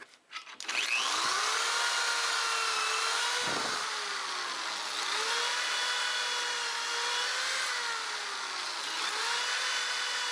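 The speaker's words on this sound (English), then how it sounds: "I can go ahead and drill the pocket holes" A power drill whines steadily while boring pocket holes into clamped wood, a loud, continuous whirring that dips and rises in pitch as the bit cuts, after a clunk of clamping at the start.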